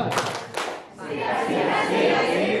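A group at a comedy camp claps hands on cue, with a couple of sharp collective claps at the start, followed by a swell of crowd voices calling out together.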